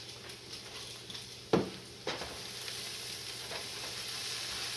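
Defrosted hash browns fry in a pan with a soft, even sizzle, broken by two sharp scrapes of a spatula turning them, then steady frying continues; no one speaks.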